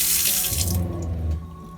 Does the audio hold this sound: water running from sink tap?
yes